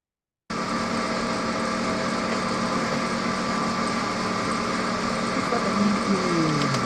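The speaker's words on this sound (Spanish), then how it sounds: "se oye el golpe porque esta es una pieza cuadrada" A metal lathe turning at 500 rpm takes a 0.5 mm cut on a square workpiece, the tool striking each corner. The steady, loud machining drone runs throughout, with a brief rising squeal near the end.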